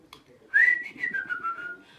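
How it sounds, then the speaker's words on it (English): A person whistles a short melodic phrase of a few sliding notes, clear and fairly close, with no other sounds around it. "Then he began to whistle."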